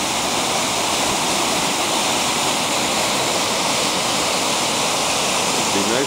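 Yarmouth Falls pours steadily, a loud, unbroken broadband rush of falling water heard up close with no talking.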